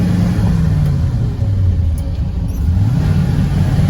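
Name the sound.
old grain truck engine rumbling while driving a load of corn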